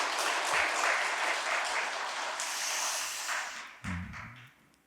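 A church congregation claps for the choir after an Advent Sunday anthem, a broad wash of applause from many people that holds steady, then thins out and fades near the end with a few scattered claps and a light thump.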